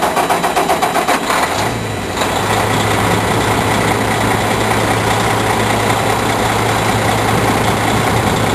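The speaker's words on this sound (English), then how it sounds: "Turn the truck on and start it." Semi truck engine cranking over briefly, then settling into a steady, loud low diesel idle that runs continuously close by while the truck is hooked up to a trailer.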